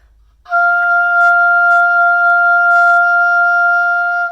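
Oboe sounding a forked F, a single steady sustained tone held for about four seconds after a short silence, with a strong, clear reed timbre and no talking.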